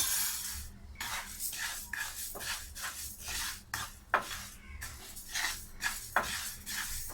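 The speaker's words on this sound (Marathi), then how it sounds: "तांदूळ थोडे गरम करून घेऊया." Dry rice grains roasted in a pan for a traditional rice kheer, stirred with a spoon that makes repeated close scraping and clinking strokes against the metal, steady and rhythmic with no one talking.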